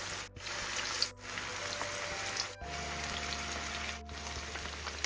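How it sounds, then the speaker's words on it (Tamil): Chicken pieces fry in hot oil over medium heat, giving a soft, steady sizzling hiss with faint bubbling. The sound is fairly quiet, with a few brief dips. "மிதமான சூட்டில் போட்டு வறுக்கலாம்."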